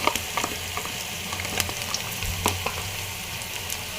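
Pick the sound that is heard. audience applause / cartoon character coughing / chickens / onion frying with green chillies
onion frying with green chillies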